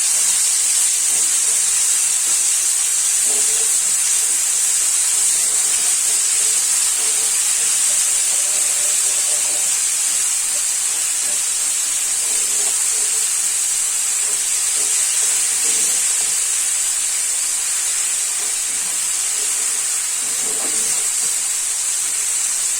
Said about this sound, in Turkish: kaşığı da domates salçası koydum. Biraz kavuruyoruz.